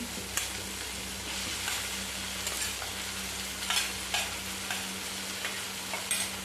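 Green chillies for thecha sauté in a pan with an even sizzle, while a spoon stirs and scrapes in repeated, clearly audible strokes over a low steady hum.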